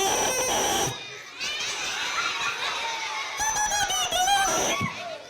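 A bare double reed blown on its own gives off shrill, squeaky crowing tones with wavering pitch, loud and close, across a few short bursts.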